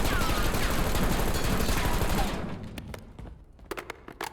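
Sustained automatic assault rifle fire in Warzone at Verdansk, a dense rapid stream of shots that is loud for about two seconds and then gives way to a few scattered sharp reports and clicks.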